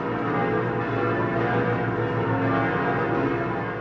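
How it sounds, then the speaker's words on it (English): Bells of Notre Dame cathedral in Paris ringing in a dense, continuous peal, loud and sustained, with no voices. "In the first month after Notre Dame's bells began to ring again"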